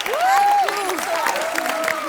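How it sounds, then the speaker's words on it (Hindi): Studio audience on a Hindi comedy talk show clapping for a film's star cast, a continuous ripple of applause underneath voices talking over it. "एक बार बेगम जान की पूरी स्टार कास्ट के लिए ढेर सारी तालियां हो जाएं"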